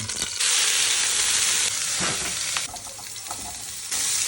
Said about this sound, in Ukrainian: Швидко обжарюємо і викладаємо зеленуху.